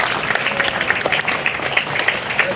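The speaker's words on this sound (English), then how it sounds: "let's give Alana a nice big round of applause" Onlookers at a glassblowing demonstration clap for the glassblower, a short burst of moderate, fairly close applause from a small crowd, steady for a few seconds.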